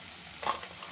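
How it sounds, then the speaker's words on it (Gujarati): Sliced onion with ginger and green chili paste frying in a pan, giving a brief, soft sizzle that swells for a moment and then settles. "હવે ડુંગળી અને આદુ મરચાં થોડું સંતળાય પછી આપણે એને બટાકા એડ કરીએ।"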